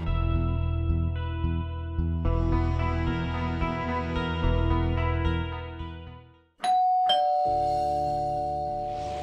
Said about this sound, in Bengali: আরে এত রাতে কলিং বেল কে দিল?